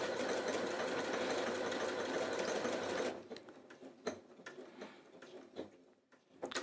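A Janome Atelier 9 sewing machine stitches embroidery with a fast, steady, whirring mechanical chatter for about three seconds, then stops, leaving faint clicks and handling sounds.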